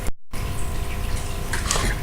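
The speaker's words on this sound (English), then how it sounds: "the effect of putting the sealed system into hot water" A sealed balloon system is lowered into hot water, giving a steady wash of water and bubbling noise close by. A brief splash and gush follow near the end.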